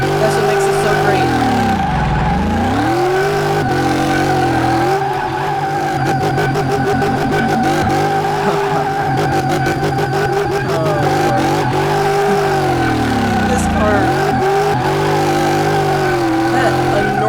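Loud, continuous engine roar from a V8-swapped Honda S2000 in Car Mechanic Simulator 2018, revving with rising and falling pitch sweeps and a rapid rattling stretch midway, while someone talks briefly over it.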